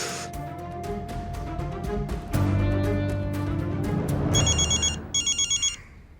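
A telephone rings during a tense family drama scene, first a continuous tonal ring, then a brighter ringtone sounding in short repeated bursts before stopping, close and clear.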